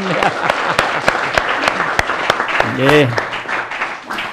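Applause at an Indonesian community talk event, a burst of hand claps with sharp individual claps standing out, while a voice speaks over part of it.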